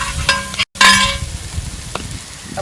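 Green chillies sautéing in a pan for Angamaly-style pork varattiyathu, a dense sizzle with clinks of a utensil against the pan, briefly cut by a moment of silence before the frying resumes, close and fairly loud.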